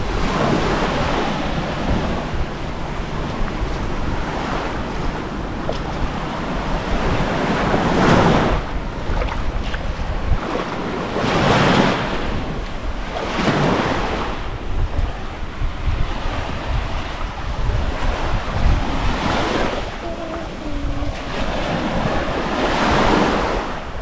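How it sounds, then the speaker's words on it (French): Sea waves washing onto the shore of Sainte-Marie island, Madagascar, a steady roar of surf with swelling breakers every few seconds, close and loud, with heavy wind buffeting the microphone. "la mer essaie d'attaquer et de ronger le bord de l'île"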